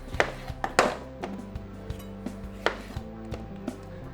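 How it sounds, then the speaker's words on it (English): Knife slicing through lemons on a cutting board, a series of sharp, irregular chops and taps with some clinking, close and fairly loud with no talk. "grab a few lemons here, grab my knife, and slice them up"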